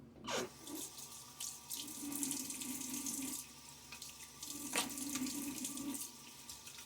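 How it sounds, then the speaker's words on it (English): Water runs steadily from a bathroom sink tap for rinsing a razor between shaving passes, a soft continuous splashing stream with a few brief spatters and no talking. "I enjoy the rinses between passes as I take water from the sink there"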